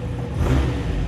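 Carbureted Renault 5 engine catching and revving from cold, a rough mid-range growl rising and holding close and loud for about a second, no voices.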